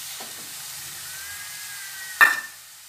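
Tomato paste with salt, turmeric and spices sautés in a pan for potato dum: a soft, low sizzle with a few faint stirring scrapes and one brief louder clatter near the end, no speech.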